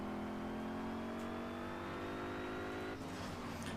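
A car engine hums steadily and loudly throughout in the Gear Club Unlimited 2 racing game on Switch, a sustained drone with a slight pitch shift near the end, with no talking.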